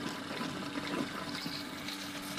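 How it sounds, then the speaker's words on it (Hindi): A container is rinsed out with hot water: close, steady running and sloshing water that continues without pause at a moderate level. "अभी हम फिलहाल इसको गर्म पानी से साफ़ कर रहे हैं"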